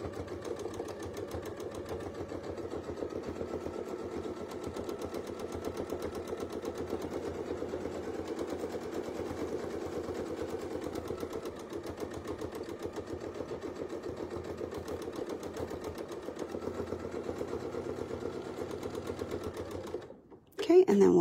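A sewing machine free-motion quilting small arcs on a small quilt piece runs in a steady, quiet, fast needle chatter for about twenty seconds, then stops briefly before a short louder burst at the end.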